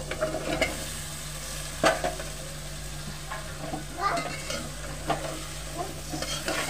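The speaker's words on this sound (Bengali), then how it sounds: "এখন দিয়ে দেবো সেই তরকারিটা।" Vegetables, kochu loti and potato, go into a fried spice paste for a Bengali prawn curry, sizzling steadily in a pan with a steady hum beneath and a few sharp stirring scrapes, close and moderately loud.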